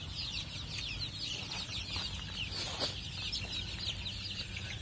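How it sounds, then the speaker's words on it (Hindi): Hens on a desi poultry farm clucking softly and intermittently, close by over a steady low background hum with a constant hiss, no talking. "कितने मस्त मुर्गी आराम कर रही है"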